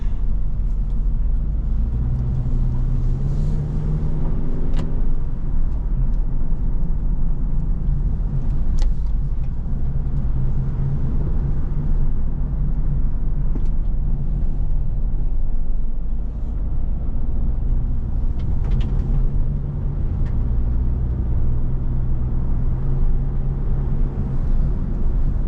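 Continuous low engine hum and road rumble of a 2007 Mitsubishi Eclipse SE cruising steadily on back roads at night, with the pitch shifting gently as it drives.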